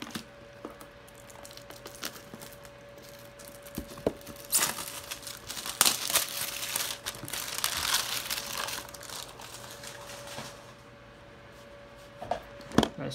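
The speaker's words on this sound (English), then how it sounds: "very nicely packaged and cellophane wrapped. So let's get that fully opened" Cellophane wrap being torn and crinkled off a Glorious Model O mouse box: quiet rustling builds into bursts of crackling plastic, with a couple of sharper snaps near the end.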